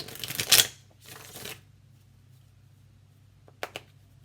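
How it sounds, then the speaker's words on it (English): Tarot cards are shuffled up close in a short crisp riffle, then a softer slide, followed by quiet and two quick taps. "I do need to shuffle off camera."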